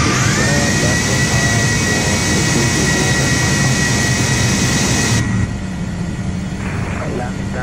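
A Pilatus PC-12 turboprop spools up during engine start in a flight simulator, a loud steady whine with a rising tone that continues throughout and then drops slightly in level near the end.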